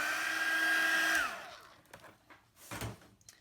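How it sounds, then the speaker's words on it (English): A heat tool drying a silver foil craft project whines with a steady high-pitched hum, then spins down after about a second, followed by a few faint handling bumps. "Now I'm gonna use my heat tool and all I'm gonna do is dry this"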